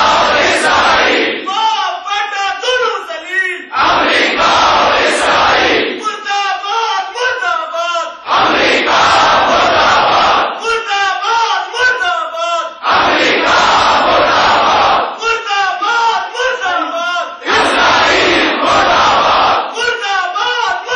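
A large crowd chants slogans in loud call-and-response bursts, each surge of massed voices followed by a brief pause, repeating steadily.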